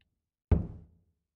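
A locked door in the Japanese horror game Lurk In The Dark gives a single heavy knock-like thud as it is tried, ringing briefly and dying away within half a second, otherwise quiet.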